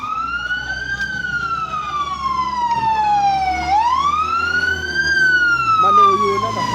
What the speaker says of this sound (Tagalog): Alam ba ho, parating yung mga bumbero.